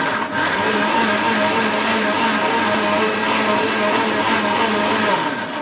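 A mixer grinder runs continuously at close range, grinding masala with added water to a fine paste for an Okkanekal fish curry, a steady loud whirring motor drone with no speech throughout.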